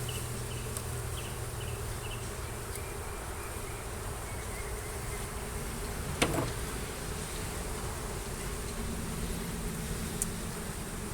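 Honey bees buzzing steadily around an opened hive during a honey harvest, a dense continuous hum close by with no voices, plus one brief sharp knock midway.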